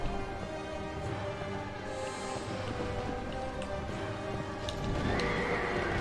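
Horse in the Dark Souls II video game neighing loudly while hooves gallop steadily beneath, a dense continuous game sound with no talk.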